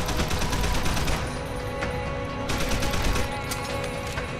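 Sustained gunfire in Deus Ex: Human Revolution, played on hard difficulty: dense, loud bursts of shots with sharp cracks standing out, continuous across the whole stretch with no talking.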